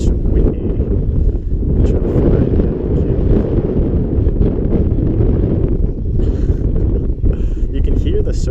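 Strong wind buffeting the microphone outdoors at an RC plane flying field, a loud, continuous low roar with gusty rumbling that barely lets up, dominating the whole scene.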